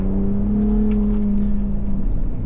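A 2024 Ford Raptor truck drives down the road, its engine giving a steady, close, moderately loud drone with a constant low hum throughout and no voices.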